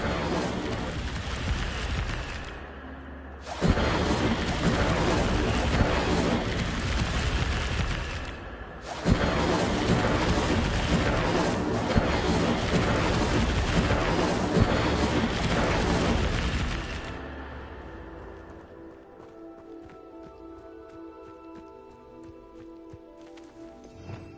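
An Incendio fire spell cast in the Hogwarts Legacy video game: loud, dense crackling whooshes arrive in two long sustained bursts before fading into a quieter tonal game background.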